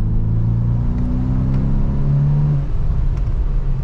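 A Volkswagen T-Roc R 2020 with a 300 hp engine and seven-speed DSG dual-clutch gearbox accelerates hard from inside the cabin, its steady engine drone rising in pitch with a quick gearshift dip near the end.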